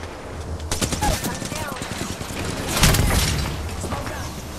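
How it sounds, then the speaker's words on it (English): Gunfire in the Apex Legends video game, bursts of rapid shots and sharp cracks coming in clusters with a heavier volley near the end, loud and close. "I'm getting shot down."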